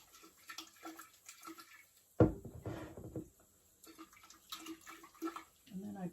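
Hot water swished around inside a jar in a kitchen sink while fermenting okra, a brief sloshing splash with faint trickles and clinks before and after, quiet and close.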